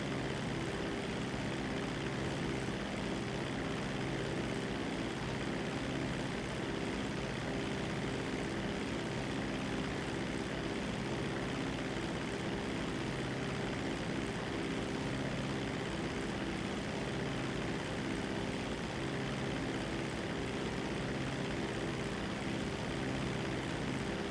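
Propeller airplanes droning in GTA 5 Online, a steady, dense engine hum that holds without a break and stays loud and even, with no voices over it.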